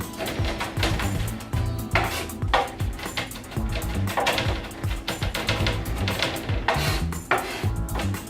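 A knife chops rapidly on a cutting board as garlic is roughly minced, dense irregular taps running throughout, close and fairly loud, with no voices.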